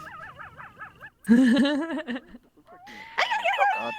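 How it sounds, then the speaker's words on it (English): Coyote howls inside VRChat, a chorus of wavering high yips and warbling howls that rise and fall in several bursts with short gaps, fairly loud and close, with no talk over them. "Sounds like a dog's dying. That's what coyotes sound like."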